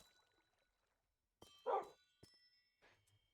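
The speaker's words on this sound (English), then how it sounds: "Dogs." Dogs barking in the Minecraft video game: a few short, quiet barks spaced apart, with one louder bark in the middle, over an otherwise near-silent background.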